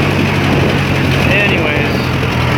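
An engine with a touchy throttle runs steadily and loudly up close, holding an even, buzzing drone throughout the short stretch.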